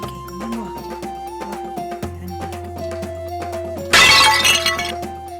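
Dishes smashed in a home, a single loud crash of breaking crockery near the end, bursting over steady background music.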